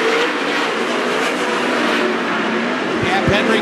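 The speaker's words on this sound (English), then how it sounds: "Conley and Schaefer buzz at the top side of the racetrack" 410 sprint cars race around the dirt oval at Attica Raceway Park, a loud, steady engine roar filling the whole stretch with a couple of low surges near the end as cars sweep past.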